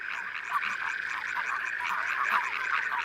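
Dense chorus of frogs and toads in the lake country of La Brenne, France, a steady overlapping mass of croaks and trills pulsing continuously throughout with no voices.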